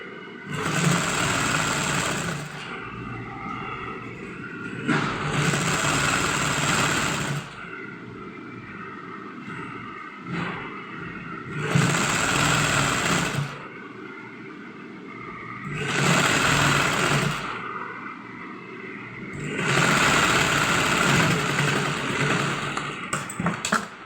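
A sewing machine stitches a kurti in repeated runs of fast whirring, each burst lasting a few seconds with short pauses between, close and steady.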